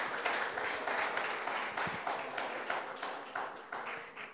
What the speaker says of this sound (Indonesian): Kita berikan tepuk tangan sekali lagi untuk mereka.